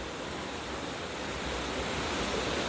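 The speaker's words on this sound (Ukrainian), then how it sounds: "Тут є ось така от річка." A river runs near waterfalls in the Carpathian village of Shypot, giving a loud, dense, unbroken roar of rushing water throughout, with no voices.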